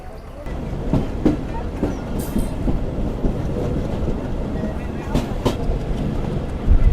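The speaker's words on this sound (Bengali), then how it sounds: "আমাদের ট্রেন ছেড়ে গেল নিজামপুর রেলওয়ে স্টেশনে" Rumbling local commuter train pulling out of Nizampur railway station in Rajshahi, Bangladesh, with rhythmic clickety-clack of wheels over rail joints, loud and close, with faint voices in the background.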